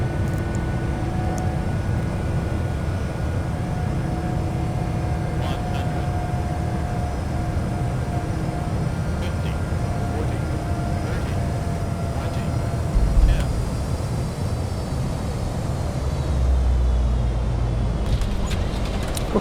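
A Boeing 777-200F freighter landing in the X-Plane 11 flight simulator, with a steady, loud engine and airframe rumble droning throughout, plus a few brief clicks and a low thump near the end.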